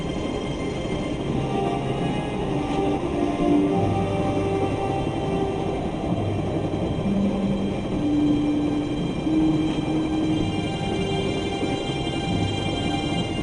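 Electric train from the Broken Sword video game, power drawn from overhead cables, rumbling steadily along the rails with a dense, continuous hum and faint squeals and clatter throughout, loud and without voices.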